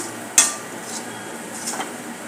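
Ground coriander, cumin powder and garam masala sautéed and stirred in a pan for an eggplant and potato curry: a sharp metallic clink of the spoon on the pan, then soft scraping strokes over a faint sizzle.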